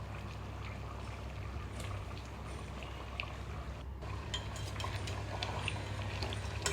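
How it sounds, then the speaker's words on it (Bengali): Pumpkin pieces are tipped into a pot of boiled meat for a curry, a soft sloshing, bubbling wet noise with faint utensil clinks against the pot, steady and close with no talk. "এখন মিষ্টি কুমড়াটা দিয়ে দিচ্ছি"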